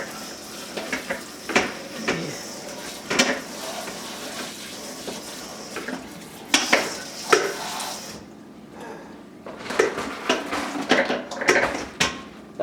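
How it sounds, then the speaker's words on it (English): Plastic polishing beads scooped and tipped into a strainer during agate polishing, giving bursts of loose rattling and clattering with watery splashes, close up, with a brief lull before more scooping. "I'm just scooping up the remaining plastic beads and throwing them in the strainer here."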